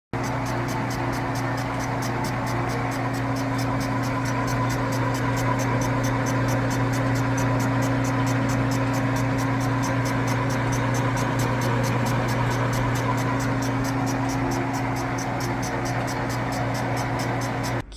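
A machine cutting Harley-Davidson Milwaukee-Eight cylinder heads in a workshop: a loud, steady, unbroken droning whine with a buzzing edge that holds constant from start to finish.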